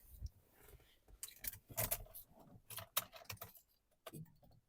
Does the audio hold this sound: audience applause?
no